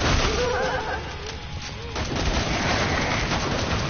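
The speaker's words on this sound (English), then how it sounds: "I just threw like that grenade." A grenade explosion and gunfire in the video game Killing Floor 2, a dense, loud burst of rapid shots and blasts that continues for the whole few seconds, with voices mixed in underneath.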